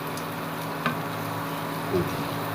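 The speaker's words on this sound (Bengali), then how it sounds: "মানে বারবার নাড়ছি তার কারণ হচ্ছে যেন মশলাটা, মানে পেঁয়াজটা যেন পুড়ে না যায়।" Onions fry in a pan with spices and turmeric-coated potato, giving a steady soft sizzle with occasional light scraping clinks as they are stirred repeatedly.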